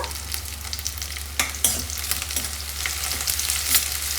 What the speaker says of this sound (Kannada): ಚೆನ್ನಾಗಿ ಫ್ರೈ ಮಾಡ್ಕೊಳ್ಳಿ ಈರುಳ್ಳಿ ಎಣ್ಣೆಯಲ್ಲಿ ಬಾಡಿದ ನಂತರ